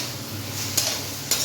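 Bathua greens cook in a pan with a soft continuous sizzle, and two sharp metallic scrapes or clinks from a utensil land about half a second apart, close by.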